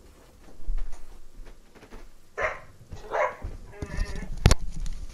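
Small pet dogs give a few short barks at close range, spaced a second or so apart, amid soft background noise and some talking.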